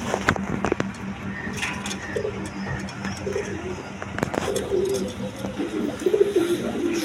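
Male pigeons cooing in a loft, soft repeated low coos scattered through the clip over a faint background hum with occasional knocks and rustles.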